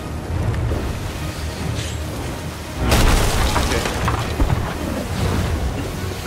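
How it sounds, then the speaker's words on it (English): Deep booming cannon blasts in a pirate video game erupt over a rumbling, noisy background, with a loud burst partway through followed by continued heavy rumble and scattered impacts. "Incoming cannon fire."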